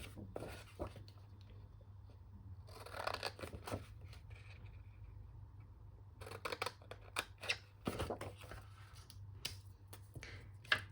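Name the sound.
scissors cutting paper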